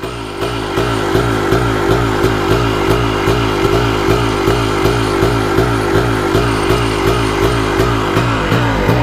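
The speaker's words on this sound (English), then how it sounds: "Sounds like a CR500 back here." Honda CR250 two-stroke dirt bike engine revving close by, a loud raspy ringing drone with rapid regular pulses through steady throttle blips, running continuously throughout.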